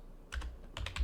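Typing on a computer keyboard, a short run of crisp, close key clicks in two small bursts over a low hum, with no talking.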